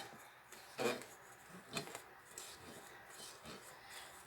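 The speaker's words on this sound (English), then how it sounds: "I want to scrape down the sides" A spatula scraping the sides of a mixing bowl of cake batter with sugar, for an orange cake; soft, close rasping strokes, a few distinct scrapes spread over a few seconds, with no talking.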